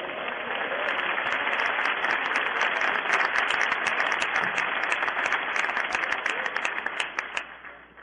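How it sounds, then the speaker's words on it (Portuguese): Sustained applause from a church congregation honoring the Lord, dense steady clapping filling the space for about eight seconds before tapering slightly at the end. "Ao Senhor um aplauso, por favor."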